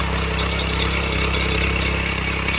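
A Sraja R117 power weeder engine running in third gear, a steady close mechanical drone with an even, unbroken tone and no pauses.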